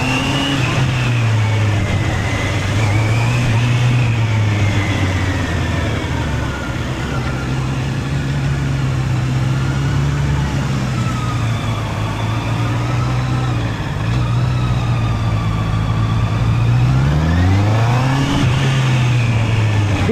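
Honda CB650R E-Clutch motorcycle engine revving steadily while riding, a loud continuous four-cylinder drone rising and falling in pitch with a sharp climb near the end, heard alone without talk.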